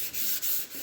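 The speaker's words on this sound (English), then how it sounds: "as I'm block sanding this this primer with 320 for its final block" A sanding block with 320 grit sandpaper rubs over primer on a Datsun 260Z body panel, three short close back-and-forth strokes giving a steady hissing scrape.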